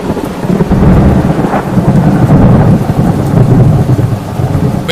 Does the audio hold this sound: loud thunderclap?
yes